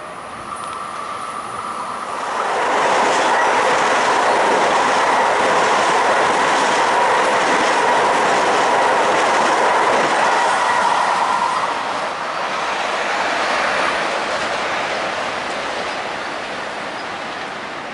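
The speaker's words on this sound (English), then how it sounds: "Two trains on the Montauk." LIRR trains pass at Queens Village on the Montauk line, a loud broadband rumble swelling in after a couple of seconds and holding with rhythmic wheel clatter, easing briefly before a second surge fades out.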